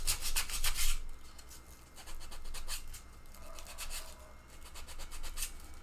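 Hand sanding on a T-Rex bust sculpture, soft rhythmic rubbing strokes in quick bursts with pauses between, faint and close, no talking.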